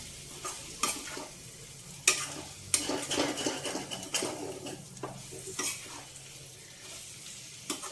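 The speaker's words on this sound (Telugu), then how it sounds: "ఇప్పుడు ఇది కొంచెం వేగాలండి. చికెన్ బాగా వేగాలి." Chicken for gongura chicken curry fries in a pan while being stirred, with a sizzle under repeated scraping and clinking of a utensil against the metal, loud and close, and no talking.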